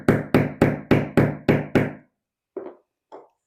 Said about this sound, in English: we're going to take that door stopper that we just moved and just slightly tap on it